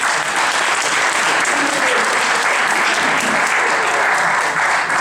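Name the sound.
audience applauding panelists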